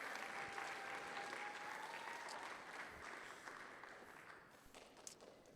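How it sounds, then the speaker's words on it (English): Steady audience applause at a demo day presentation event, sustained and even across the whole stretch with dense clapping that eases slightly toward the end, no talking over it. "So let's give her a big round of applause."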